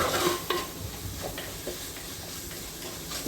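Ginger, garlic and curry leaves sautéing in a pan for a Kerala sardine curry, with a soft steady sizzle and a few stirring scrapes and clinks, close and fairly quiet, no talking.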